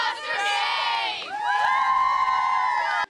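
Cheer squad at a high school football game yelling and cheering with a crowd, loud and dense with high excited voices throughout, dipping briefly midway before swelling again and cutting off abruptly at the end.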